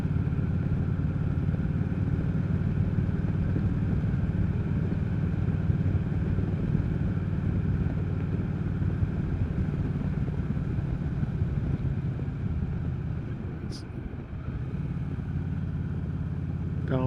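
Motorcycle riding a gravel stretch of rural Rustic Road 32: a steady, continuous engine drone with tire and gravel rumble underneath, holding level throughout with a brief dip near the end, no talking.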